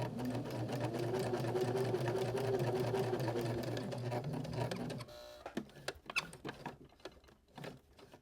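Sewing machine runs steadily for about five seconds, stitching around the bottom edge of an upcycled shirt with red thread, then stops, leaving scattered handling clicks and taps.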